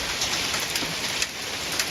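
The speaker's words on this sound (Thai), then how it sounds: "โอ้โหเสียงดังป๊กเป๊ก ป๊กเป๊กนะคะ นี่คือก้อนลูกเห็บ" Dense, steady patter of hailstones striking surfaces during a heavy downpour, with sharper clicks popping out now and then, continuous and fairly loud with no voices.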